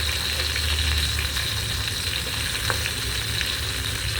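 Eggplant pieces fry in a pan of hot oil, a steady dense sizzle crackling close and continuous throughout with no voices.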